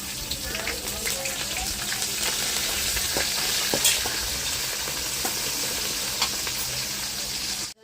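Onions and curry leaves frying in hot oil for a tempering while making an amaranth leaf stir-fry, a steady close sizzle with crackling pops and occasional stirring scrapes, continuous throughout.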